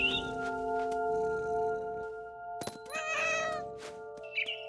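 A cat meows repeatedly in the video game What Remains of Edith Finch, several clear close calls over a steady tonal game music bed.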